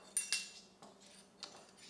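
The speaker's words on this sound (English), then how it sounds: "I better get my teaspoon ready" A metal teaspoon picked up and handled in a kitchen while making savory turnovers, giving a few light, close metallic clinks spaced apart over near silence.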